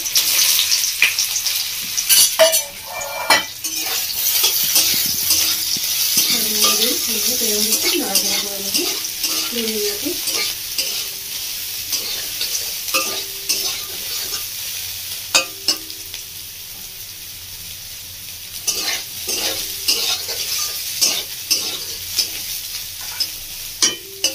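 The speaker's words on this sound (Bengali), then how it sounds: "এবার দিয়ে দিচ্ছি সয়াবিনগুলো আমি তেলের মধ্যে।" Soybean chunks fry in hot oil in a pan for a Bengali mixed-vegetable dish, a steady sizzle running throughout under repeated stirring and scraping clinks of a utensil against the pan.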